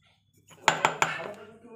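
A metal cooking pot set onto a gas stove in a home kitchen, giving three quick clanks that ring out briefly, then a softer scrape, close and fairly quiet.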